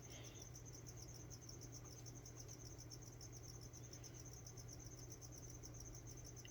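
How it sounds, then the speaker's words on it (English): Steady, dense chirping of many feeder crickets in a gecko enclosure, a continuous high trill running unbroken throughout with a low hum underneath. "there's a bunch of crickets jumping around behind her"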